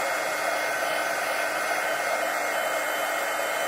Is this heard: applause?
no